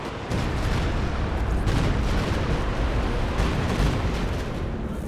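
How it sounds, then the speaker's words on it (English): A Stuka dive-bomber barrage in a strategy game unleashes a continuous rumble of overlapping explosions and heavy booms, loud and dense across the whole stretch with no pauses. "there's the Stuka barrage"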